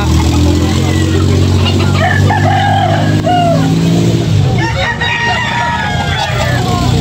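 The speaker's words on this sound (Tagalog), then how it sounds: "Guwapong manok mga kabakerd." Roosters crow repeatedly at a busy chicken market, several loud calls overlapping amid crowd chatter and a passing engine.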